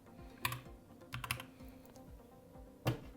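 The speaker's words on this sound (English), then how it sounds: "So I will just type this personal blog." Fingers type on a computer keyboard in quick, light clicks, with a few louder key strikes at irregular moments, close and otherwise quiet.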